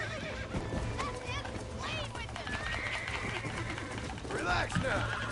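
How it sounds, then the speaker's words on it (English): A wild horse being tamed in Red Dead Redemption whinnies and snorts in rising, wavering calls over steady game ambience, with a louder neigh near the end and a voice talking underneath. "hopefully I can get this horse tamed as well"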